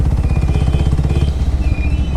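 A motorcycle idling close by with a fast, even, repetitive clicking rattle running through the engine note.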